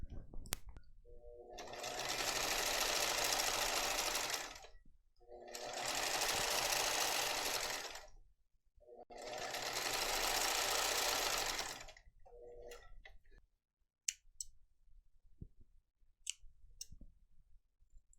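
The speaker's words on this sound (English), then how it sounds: "I just sew this down with my machine and I call it a day." A sewing machine stitches a striped tote bag in three long steady runs with brief pauses between them, loud and close. Scattered clicks and handling noises follow as the fabric is shifted.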